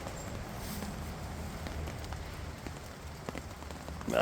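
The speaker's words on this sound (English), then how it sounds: "I ain't bothered about a drop of rain." Light rain patters onto leaves and surfaces in woodland, with scattered soft drops over a low steady hiss, fairly quiet and continuous, with no talking.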